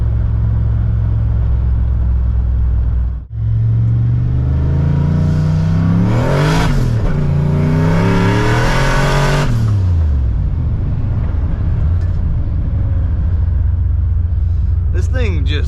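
A turbocharged Fox body Mustang on street tires pulls hard, engine note climbing in a sustained loud rev with turbo whoosh, a brief gap, then a second surge before settling into a rumbling idle; voices talk over parts of it.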